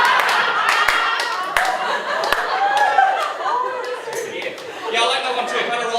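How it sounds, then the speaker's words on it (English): A comedy club audience breaks into scattered clapping mixed with chuckles and chatter, sharp individual claps popping out against a lively room murmur with voices talking over it. "It's just the bullies from my high school clapping"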